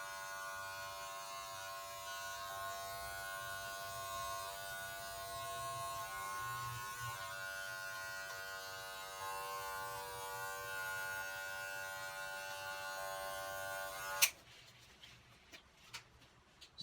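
Electric hair clippers buzz steadily and close while fading a self-cut haircut, a continuous motor drone that cuts off abruptly near the end, leaving a few soft handling knocks.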